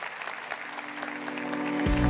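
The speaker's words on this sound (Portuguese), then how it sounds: "Uma salva de palmas." Audience applause at a liberty and democracy forum, steady clapping from a crowd that swells slightly, with a low hum entering near the end.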